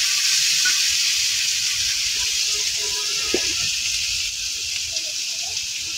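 Potatoes fry in a pan with turmeric, salt, cumin paste and ginger paste, making a continuous moderate hiss with a few faint clinks.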